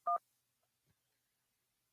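A single short telephone dialing tone, clear and close, followed by near silence with a couple of faint clicks.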